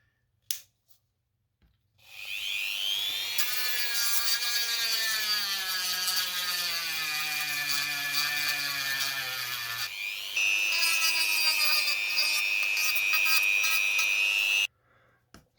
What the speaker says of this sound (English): just going to use a drum sander.